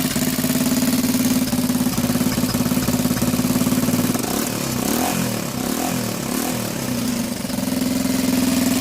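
A Honda XL125S motorcycle engine, a little junk bike, idles steadily up close with an even, throbbing chug that holds for the whole stretch, with no voices over it.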